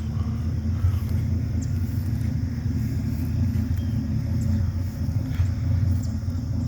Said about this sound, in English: people think that's a V8 when they hear it idling.